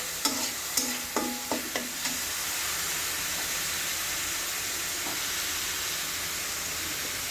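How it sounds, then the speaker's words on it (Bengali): Spices with turmeric being sautéed in oil for potato fry, a few sharp spoon scrapes against the pan at first, then a steady close sizzle and hiss that carries on alone. "এবার মশলাটা ভালোভাবে সবগুলো উপকরণের সাথে কষিয়ে নেব"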